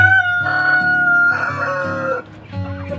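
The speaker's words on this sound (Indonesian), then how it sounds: "Ini ayam merawang nih teman-teman." Merawang chickens on a farm crow and cluck nearby, with a rooster's drawn-out crow ringing over lower clucking in two clear bursts, no voices present.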